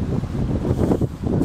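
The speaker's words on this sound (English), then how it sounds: "wind is right in our face" Gusting wind on a hilly disc golf course, a steady rough buffeting roar across the microphone with uneven surges, close and fairly loud with no voices.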